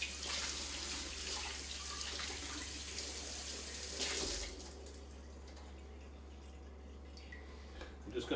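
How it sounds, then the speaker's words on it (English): Running cold tap water rinsing a rack of baby back ribs at a kitchen sink, a steady hiss of flowing water that drops quieter midway, with a constant low hum underneath. "I'm just going to rinse them under some cold water."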